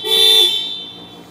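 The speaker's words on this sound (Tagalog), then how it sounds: "Mag-a-alarm siya." A 2025 Mitsubishi Montero GLX manual's car alarm goes off when the key is turned to start it, a loud, steady high electronic tone lasting just over a second before fading slightly.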